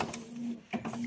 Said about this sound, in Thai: เห็นบ่มานี่เบิ่งนี่พิมพ์เตอร์กำลังทำงาน